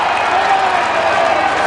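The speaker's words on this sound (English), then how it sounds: "you can imagine a mixture of applause and boos depending on who you're supporting" Dense, roaring crowd noise from spectators at a Commonwealth Games women's T20 cricket semi-final between England and India, a mix of applause and boos, loud and unbroken for the whole brief moment.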